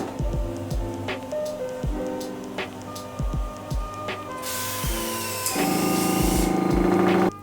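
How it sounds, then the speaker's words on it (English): At a Korean hair spa, a metal blower machine clicks and ratchets in short mechanical bursts, then lets out a loud, sustained hissing blast of air while dandruff is blown from the scalp, heard close up with no talking. "I noticed that she had this kind of metal machine type thing, and it's kind of like a blower machine."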